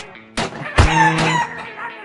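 Chickens in the video game Bird Assassin let out a loud, close squawking, crowing cry after a sharp thump, with harmonic calls overlapping for about a second and a half and no talking.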